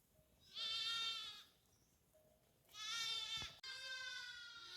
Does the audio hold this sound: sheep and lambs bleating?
yes